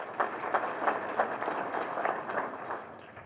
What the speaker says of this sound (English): I love clapping, but if you do that, we're going to be here until 8 o'clock at night